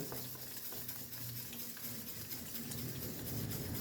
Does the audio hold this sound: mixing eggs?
yes